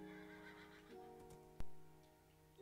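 A horse neighing in the video game Minecraft, a drawn-out whinny with a sharper cry near the middle, heard alone over a faint background tone.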